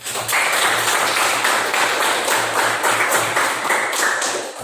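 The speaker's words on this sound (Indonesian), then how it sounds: "Tepuk tangan dulu untuk kita semua." A classroom of students applauds, a dense, even wash of clapping hands sustained at fairly close range for several seconds before easing slightly at the end.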